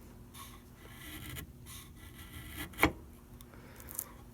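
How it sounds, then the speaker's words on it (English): A chisel takes gentle paring strokes on a wooden block clamped in a vise, peeling off thin curls with soft scraping rasps and one sharper crisp cut near the end, fairly close and quiet. "I'm going to take my chisel and just try to flare out the bottom of this. See how that some of that wood just peels right off."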